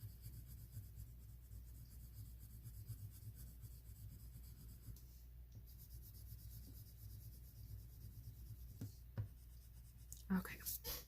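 Colored pencil drawn across paper in small circular motions, a soft, steady scratchy rubbing that runs quietly and continuously, with a few louder knocks near the end.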